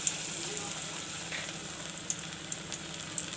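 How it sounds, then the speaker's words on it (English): Chana dal pakoris frying in hot oil, a soft even crackling sizzle with a few sharp pops, quiet and continuous, no speech. "This way I will fry all the pakoris."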